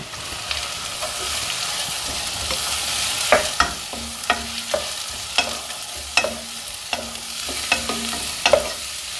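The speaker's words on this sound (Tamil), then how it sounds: "அது பொரிஞ்ச உடனே இந்த பெரிய வெங்காயம் பொடியாக நறுக்கி வச்சுருக்கோம்ல, அதை போட்டுக்கலாங்க." Chopped large onions sizzle steadily in hot oil with curry leaves and chillies, with intermittent clinks and scrapes of a spoon stirring the pan.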